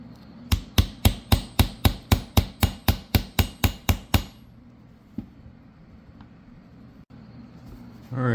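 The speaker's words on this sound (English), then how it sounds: "I'm going to start working on the rivets on the leather" A hammer strikes rivets into leather armor pieces in about fourteen sharp, evenly spaced blows over four seconds, followed by quiet with a single faint tap.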